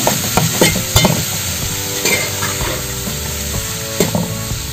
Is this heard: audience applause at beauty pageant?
no